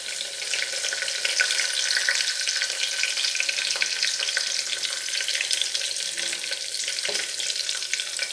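Curry leaves, crushed spices and small onions fry in hot oil with a continuous, close crackling sizzle that stays steady throughout.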